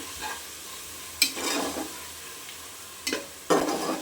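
Ginger garlic paste sautés in a pan for chicken biryani: a soft continuous sizzle broken by a few sharp stirring scrapes, close by and with no voices.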